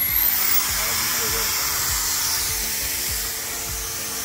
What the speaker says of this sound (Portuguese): Vamos tirar aqui agora, tá vendo, fazendo polimento.